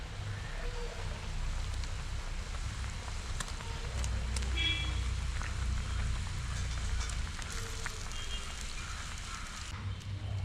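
Pieces of moda fish go into a pot of boiling fish curry gravy, which keeps up a soft, continuous bubbling and sizzling simmer, with a few faint clinks near the pot.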